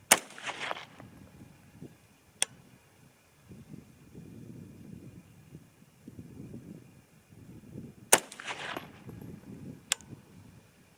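A 6.5 Grendel rifle firing 95-grain cartridges outdoors: two sharp reports about eight seconds apart, each trailed by a short rumble, with low wind noise in between.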